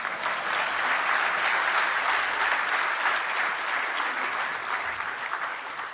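Warm, continuous audience applause from the Indian community gathered in Brisbane for an interaction with India's external affairs minister, an even, full-room clapping that holds steady and tapers slightly at the end, without speech.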